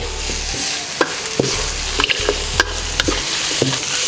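Razor clams stir-fried in a wok with fingerroot, green peppercorns and kaffir lime leaves: a steady sizzle with repeated scraping and clacking strokes of a spatula, close and fairly loud, no talking.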